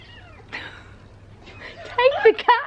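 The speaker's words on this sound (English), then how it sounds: "We have got a cat that has befriended us in our villa, and it's very noisy" A cat in a villa meows, with a few softer cries early on, then several loud, close, wavering meows bunched together near the end.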